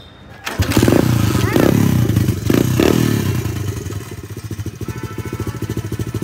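A 125cc dirt bike engine fires up and revs loudly, then settles into a steady, rapid chugging idle-to-throttle rhythm as a kid shifts into gear and pulls away, with a voice coaching nearby.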